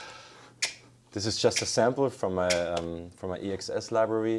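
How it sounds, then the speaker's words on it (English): One crisp finger snap from an EXS sampler library rings out on its own, followed by someone talking at length. "I added some finger snips"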